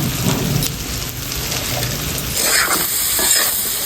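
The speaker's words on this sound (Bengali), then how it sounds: "এবার ভালো করে কষিয়ে নেব।" Turmeric, salt and ground cumin sizzle steadily in a hot pan while being stirred and fried for a taro and tengra fish curry, a continuous close crackle with scraping.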